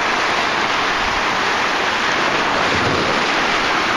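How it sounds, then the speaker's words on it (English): Rough ocean surf breaks over a rocky shore, a loud, continuous wash of white noise that stays steady throughout, with wind buffeting the microphone and no one speaking. "You can see there's plenty of waves here though."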